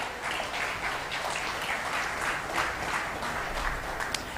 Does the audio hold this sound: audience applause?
yes